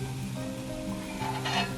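Point Pedro vadai deep-frying in oil over medium heat, a steady close sizzle with low bubbling and a brief brighter crackle near the end.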